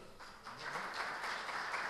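An audience applauds a speaker being introduced at a conference, a brief swell of clapping that builds over two seconds, moderately distant and soft.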